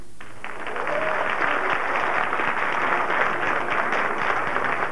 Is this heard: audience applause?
yes